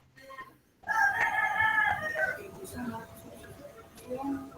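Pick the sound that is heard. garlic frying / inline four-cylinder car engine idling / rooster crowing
rooster crowing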